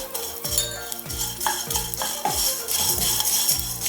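Green chilli and garlic are stirred in a pan for noodle cutlets, with a utensil scraping and clinking against the metal in a steady repeated rhythm over a light sizzle, close and fairly loud, with no voices.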